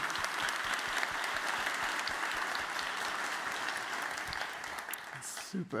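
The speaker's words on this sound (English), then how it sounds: "So let's have a round of applause, please, for Frank and Chadine." Sustained audience applause at a literary talk, dense steady clapping that holds for several seconds before tapering off near the end.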